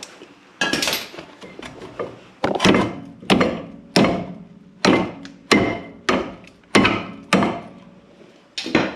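Repeated hammer blows on metal knock loose a seized part on the rear brake of a 2006 Hyundai Elantra: about a dozen hard, ringing strikes at a steady, roughly even pace, close and loud with no talking.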